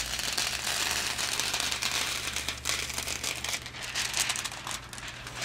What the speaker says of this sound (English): the last step will be to remove the foil